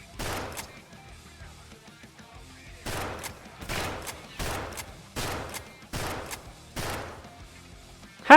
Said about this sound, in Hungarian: Nem nagyon hatotta meg őket ez a 6 lövés.